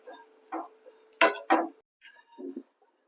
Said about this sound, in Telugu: రొయ్యి పొట్టు వచ్చి ఈ విధంగా అయితే బాగా ఫ్రై అవ్వాలండి